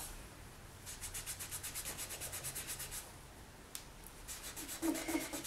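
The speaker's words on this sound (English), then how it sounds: "And I'm going to start rubbing." Close, rapid back-and-forth rubbing of paint off polymer clay in a steady rhythm of quick strokes, pausing briefly before a few more scrubbing passes.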